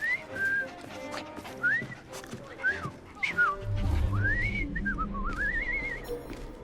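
A man whistles a wandering melody in Assassin's Creed Syndicate, in short rising and falling phrases that run into a longer warbling tune, close and clear over a low background murmur.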